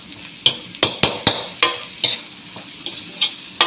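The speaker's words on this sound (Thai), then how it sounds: "แล้วก็ผัด คลุกเคล้าให้เข้ากันเลยนะคะ" Shrimp with red curry paste being stir-fried in a pan: a steady run of sharp, evenly spaced scraping clacks from a spatula against the pan, roughly three per second, over a low frying hiss, close and fairly loud.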